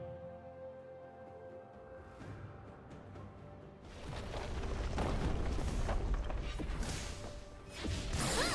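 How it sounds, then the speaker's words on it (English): A turret being destroyed in League of Legends, with mechanical creaking followed by a rumbling, booming collapse that swells loudly for several seconds and then surges again near the end. "Red team's turret has been destroyed"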